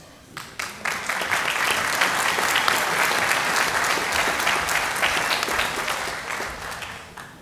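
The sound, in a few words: audience applause at awards ceremony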